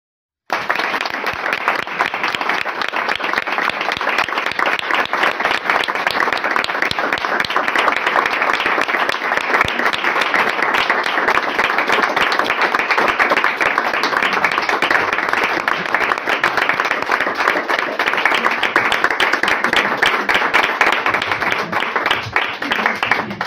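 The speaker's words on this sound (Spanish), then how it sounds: "Te aplaudimos bastante para que te dé más vergüenza." Sustained audience applause at a book presentation of biblical reflections on the Easter triduum, a dense, loud wash of many hands clapping continuously and evenly for over twenty seconds after a brief silent start.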